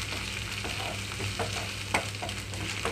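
Ginger garlic paste fries with softened onions in a pan for onion egg fried rice, giving a dense, steady sizzle with light stirring scrapes throughout.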